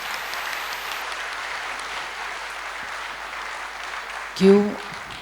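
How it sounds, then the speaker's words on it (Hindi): Audience at a youth health, wellbeing and sports event in a retreat centre claps steadily in a continuous wash of applause, followed by a brief louder burst near the end as a voice briefly cuts in. "इसके लिए तो थोड़ी ताली बजानी पड़ेगी ना।"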